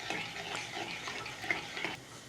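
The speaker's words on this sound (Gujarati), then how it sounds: "તો મેં આમાં થોડુંક દહીં નાખી દીધું અને થોડોક ફાસ્ટ ગેસ રાખી અને તે ફાટે નહીં ગ્રેવી, એના માટે થોડુંક ફાસ્ટ મિક્સ કલમ" Curd being stirred quickly into paneer gravy in a pan over a high gas flame, a steady wet scraping and mixing hiss with a few sharper clinks, close and moderately loud, no voices.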